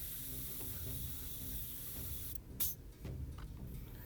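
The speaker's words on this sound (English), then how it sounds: "I'm going to start by just airbrushing flat red over" An airbrush sprays flat red paint onto parts of a 1/48 Bandai X-Wing model, a faint steady hiss with a brief burst partway through.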